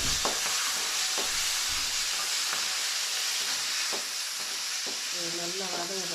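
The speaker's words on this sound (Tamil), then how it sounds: "இந்த பச்சை மிளகா அடிக்க வச்சுக்கிற மாதிரி இதை போட்டு வதக்கணும்." Green chillies sautéing in a pan for besan sambar give a steady, close frying hiss with a few clinks of a stirring spoon, and a voice talks briefly near the end.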